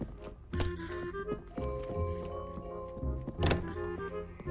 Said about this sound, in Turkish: Bir dakika mermi değiştirmeli. Önce mermi değiştiriyorum.